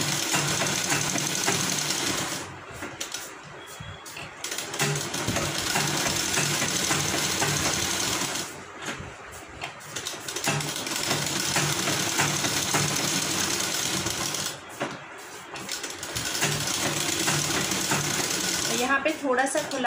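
A sewing machine runs steadily while stitching fabric for a skirt sewn from leftover cloth, with short pauses between bursts of stitching. The whirring is loud and close, and someone talks over it.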